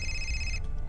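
A telephone rings in the video game Fahrenheit: Indigo Prophecy, a single electronic ring that holds steady then cuts off sharply over a low background hum, with no talking.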